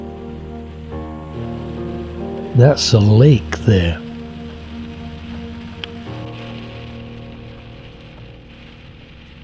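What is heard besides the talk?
rain falling in the mountains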